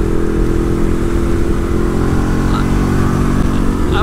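A Ducati 1098 Streetfighter motorcycle being ridden, its engine a loud, close, steady rumbling drone with rough low pulsing and wind noise, no talk heard.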